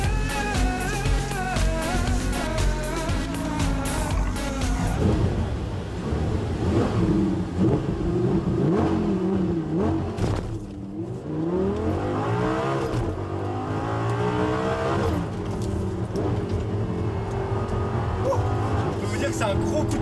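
A Lamborghini LP 560-4 on a race track launches hard from the start line, its engine revving up through rising gears and dropping at a shift before climbing again, loud and close, with someone talking over it.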